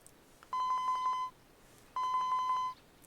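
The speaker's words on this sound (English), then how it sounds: "Osawa's cell phone rang." A cell phone rings in the video game 428: Shibuya Scramble, two clear electronic ring bursts of rapid pulsed tones separated by a short pause, close and alone.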